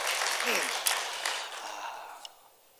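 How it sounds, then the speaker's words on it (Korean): A church congregation applauds in congratulation. A dense wash of clapping starts full and gradually fades away over a few seconds, with a voice faintly present. "축하의 박수 한번 드리도록 하겠습니다"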